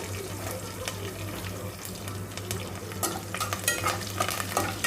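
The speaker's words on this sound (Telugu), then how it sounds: "ఉద్దిబ్యాళ్ళు, కరివేపాకు వేసుకొని మంచిగా ఫ్రై చేసుకోవాలి." Urad dal and curry leaves frying in oil for a fenugreek-leaf fry, with steady sizzling crackle and spatula stirring scrapes throughout, brief clinks and louder stirring bursts near the end, no talking.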